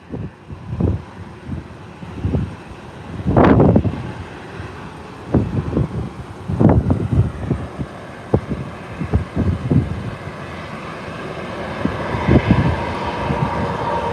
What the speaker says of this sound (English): Yeah, but it's really windy up here right now,